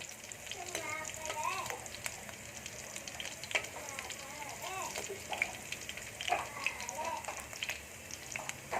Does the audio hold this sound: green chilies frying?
yes